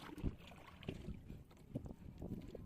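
A small boat moves on open water in strong wind, with faint gusts and buffeting against the microphone and a few soft knocks and sloshes scattered through.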